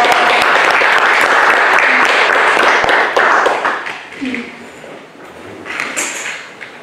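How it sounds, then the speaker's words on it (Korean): Audience applause closes a Won Buddhist health academy lecture in Busan, a dense, loud burst of many hands that fades gradually into scattered claps and quiet murmuring. "오늘 강의해 주신 염산 현덕 강사님께 큰 박수 다시 한 번 더 부탁드리겠습니다"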